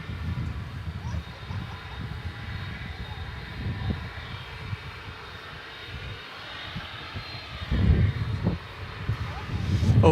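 An aircraft engine rumbles at DFW Airport amid frequent UPS cargo activity, a low, steady roar from some distance with wind noise. The roar grows louder toward the end, and a voice talks over it.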